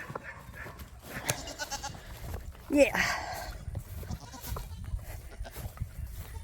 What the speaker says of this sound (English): everybody knows goats do this